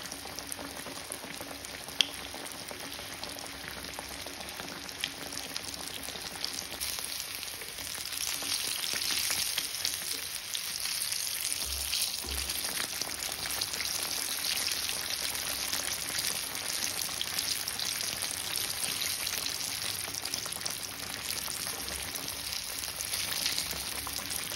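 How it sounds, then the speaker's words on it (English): Onion frying in hot oil in a pan for a blooming onion, a steady faint sizzle and crackle that grows slightly louder partway through. "Now add the onion and let it fry till golden brown in color."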